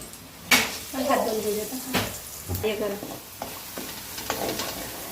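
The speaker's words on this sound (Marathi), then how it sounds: "असं लसूण जिरा आणि लसणाचं तिखट व्यवस्थित परतून घ्यायचं आहे मस्त कलर येईपर्यंत" Garlic, cumin and garlic chili powder sauté in hot oil, a steady close sizzle broken by repeated scrapes and stirs of a spoon against the pan, with no voices.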